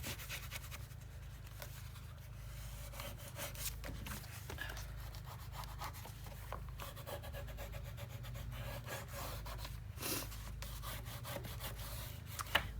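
Paper being burnished firmly onto a craft panel, a soft continuous rubbing and scraping, quiet and close, with no talking.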